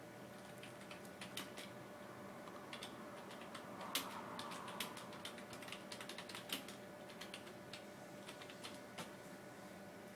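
Computer keyboard being typed on to enter a note, a quiet continuous patter of key clicks with a few sharper taps, close and without talk.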